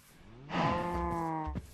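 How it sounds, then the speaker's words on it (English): A single cow moos in Minecraft, a close drawn-out bovine call lasting about a second in a jungle setting, heard alone without speech. "finding this to be a most interesting jungle with cattle running loose"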